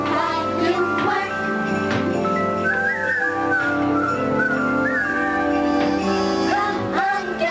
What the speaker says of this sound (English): move up and start to whistle while you work